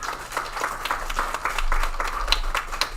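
An audience at a Spiritualist Sunday service in Cassadaga, Florida, claps in a moderate, steady patter of overlapping hand claps, with low room hum underneath.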